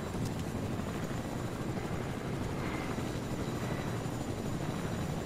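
Helicopter flying in a first-person video game, a steady broadband rotor and engine drone holding at an even level throughout with no voices.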